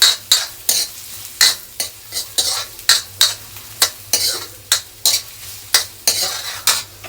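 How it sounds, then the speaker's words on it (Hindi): Onion sautés in a hot pan as a utensil scrapes and stirs it in steady rhythmic strokes over a constant low sizzle, close up with no talking. "इस प्याज को बढ़िया सा सौते कर लेंगे, इसको ब्राउन कर लेंगे अच्छे से।"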